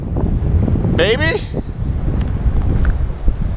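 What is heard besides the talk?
strong wind on microphone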